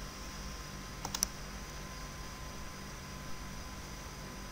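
A mouse click on a dialog button, two or three soft close clicks in quick succession over a steady background hiss.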